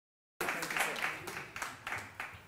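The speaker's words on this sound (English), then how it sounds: "A round of applause as I give him a notebook again." An audience at a Blackmagic Design conference and expo in Kenya breaks into applause after brief silence, a short burst of clapping with rhythmic swells and faint voices mixed in.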